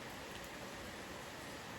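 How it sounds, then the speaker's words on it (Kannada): Heavy monsoon rain falling outside an open shop door, a dense steady hiss heard from indoors, faint and even throughout with no voices. "ಮಳೆ ಅಂತೂ ಎಷ್ಟು ಮಳೆ ಅಂದರೆ ಸಿಕ್ಕಾಪಟ್ಟೆ ಮಳೆ"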